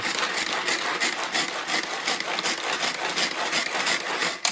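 Garlic cloves minced in a handheld manual food processor, a steady close scraping and grinding rasp of blades chopping through the cloves as the handle is turned, continuous and fairly loud with no talking.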